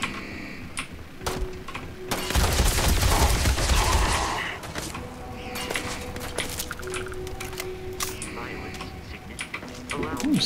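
Gunfire in Starfield, a loud dense fusillade of rapid shots in the early seconds, then scattered sharp pops and clicks, with someone talking over it.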